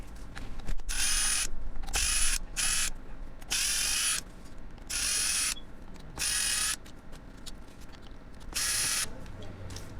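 Screws are being backed out of a Nanrobot D6+ electric scooter wheel rim with a power driver, giving loud, whirring bursts of about a second each, separated by short pauses and faint ratcheting clicks.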